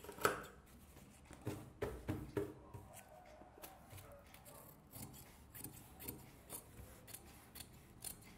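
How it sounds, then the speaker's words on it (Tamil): Scissors snipping through silk fabric along a stitch line for a baby's skirt; a quiet series of crisp, close cuts in irregular bursts, with soft fabric rustling in between. "அந்த தையலில் கரெக்டாக ஒட்டி வெட்டி விட்டுருங்க"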